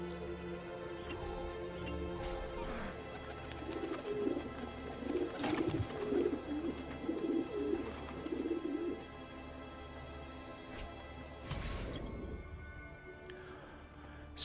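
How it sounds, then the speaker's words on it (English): Pigeons coo in the Renaissance Italian city of the video game Assassin's Creed 2, a soft run of repeated low coos over quiet ambient game sound and music, with a few brief louder noises. "Here's our pigeons."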